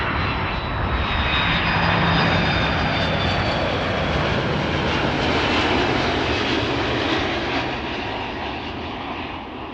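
Saudi cargo Airbus A330 jet engines at Amsterdam Schiphol Airport, a loud, sustained roar that holds steady for nearly ten seconds and then eases slightly, heard without voices.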